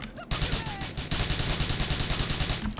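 Rapid bursts of automatic gunfire in the video game GTA 4, loud and continuous for most of the stretch, with brief quieter gaps at the start and end.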